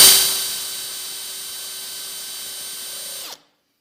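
A center drill spins into a metal workpiece, starting with a bright rasping bite and then settling into a steady whining hum with a sharp tonal ring, running alone for about three seconds before abruptly cutting off.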